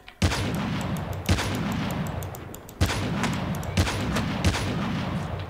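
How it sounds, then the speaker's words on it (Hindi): Sniper rifle shots in Call of Duty Mobile ring out as several sharp reports over a dense, constant wash of in-game battle noise. "एक दफा मैं स्नाइपर ये वाला रख दूं"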